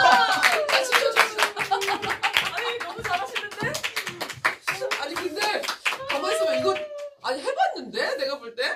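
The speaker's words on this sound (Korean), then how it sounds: "자 여러분 박수 부탁드립니다" An audience claps in a quick, rhythmic beat, loud and close, while people talk and laugh over it.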